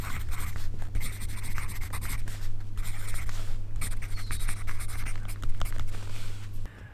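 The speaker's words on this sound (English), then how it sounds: "I will show you a bit of a writing ASMR." Pen scratches steadily across paper in a hotel room, a close, continuous writing sound with small pauses between strokes and no talking.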